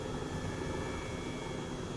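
A helicopter in Microsoft Flight Simulator 2020 flying over Oslo gives a steady, dense engine and rotor drone, even and unbroken throughout, with no voices.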